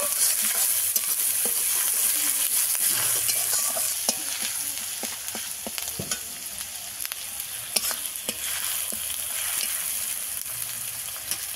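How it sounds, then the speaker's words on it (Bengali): Eggs fry in oil until light brown for an egg curry, a continuous crackling sizzle close by with frequent clicks and scrapes of a spatula turning them, no voices. "ভালো করে আমি ভেজে নেব, একদম বেশি পুড়িয়ে নেব না, একটু হালকা বাদামি বাদামি কালার করে নেব।"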